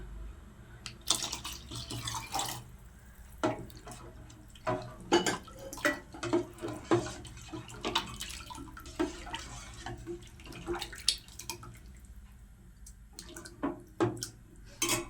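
Watery splashing and trickling as water from boiled chickpeas is poured into a pot, with intermittent clinks and knocks of a vessel.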